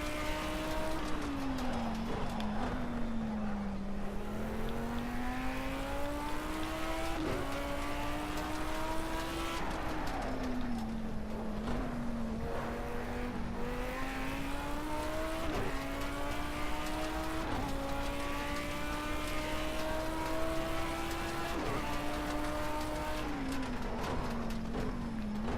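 A race car engine in a racing video game roars steadily for the whole stretch, its pitch climbing and then dropping sharply at each of several gear shifts, loud and continuous with no talking.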